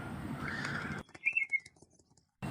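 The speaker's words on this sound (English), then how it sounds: "Yes, that is a sparrow." A cartoon sparrow gives a brief, bright chirping call that rises out of near silence, following a burst of noisy background sound.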